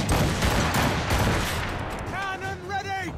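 Ship cannons fire in a broadband barrage during a naval battle in the video game Assassin's Creed Rogue, loud and dense for two seconds, with shouted orders and voices rising over the end of the volley.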